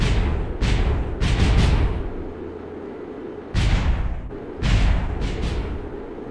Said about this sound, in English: A lovely little low explosion.